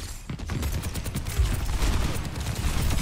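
Soldier: 76's rifle fires in Overwatch 2 in a fast, sustained automatic stream of shots, loud and close, layered over busy game sounds with no talking.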